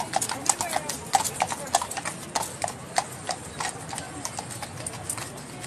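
Two police horses walking along a London street, their hooves clip-clopping in a steady, close rhythm, with people talking in the background.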